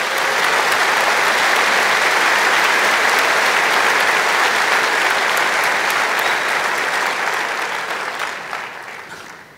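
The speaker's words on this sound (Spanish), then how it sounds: "Dar un aplauso a Jesús." A large crowd at a men's church convention claps loudly in dense, sustained applause that holds steady and then gradually fades toward the end, with no talk over it.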